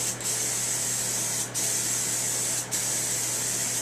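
John Deere Blitz Black aerosol spray paint hisses steadily from a can held close to a panel on a hot day, a continuous loud spray broken by two brief pauses between passes.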